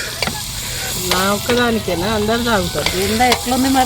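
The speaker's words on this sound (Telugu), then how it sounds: "చికెన్ మొత్తం అయితే తవ్వ మీద అయితే వేసేసుకున్నారు మంచిగా ఫ్రై అవుతుంది" Chicken frying on a tava griddle outdoors in a forest, with steady sizzle and stirring under a voice talking through most of the moment.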